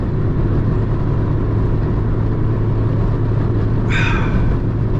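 A 1991 Toyota Corolla DX's four-cylinder engine drones steadily from inside the cabin while driving, with a brief higher whine near the end.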